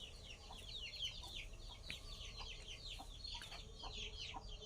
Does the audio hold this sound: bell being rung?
no